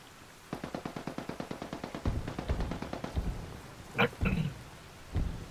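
Gunfire in the shooter Ghost War: a rapid, evenly spaced burst of automatic shots, then scattered heavier reports and a couple of sharp cracks, fairly close.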